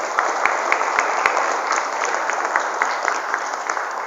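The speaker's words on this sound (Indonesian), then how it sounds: "Tepuk tangan untuk kita semuanya hari ini." Steady applause from a large audience at an anti-bullying motivational seminar held at an Islamic high school, a dense continuous patter of clapping with scattered sharper claps and no voices on top.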